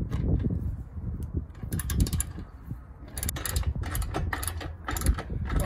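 A ratchet tightens bolts on a receiver hitch bracket fitted flush to the I-beam of a Stryker 3212 toy hauler RV, giving repeated close clicking and metallic clattering bursts in irregular runs, with no talk.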